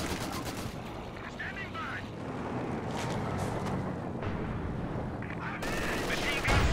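Sustained MG42 machine gun fire in Company of Heroes 2, dense continuous bursts layered with other battle gunfire and explosions, loud throughout with a commentator talking over it.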